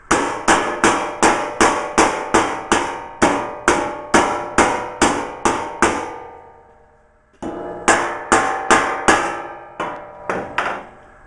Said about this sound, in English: we're just going to keep hammering that until it takes the shape we want